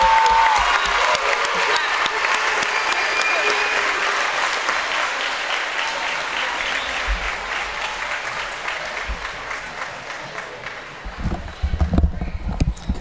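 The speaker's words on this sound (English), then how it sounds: "Let's give Allie one last round of applause." Crowd applause in a high school basketball gym during a senior ceremony, loud sustained clapping that gradually fades, with a few thumps and a brief voice near the end.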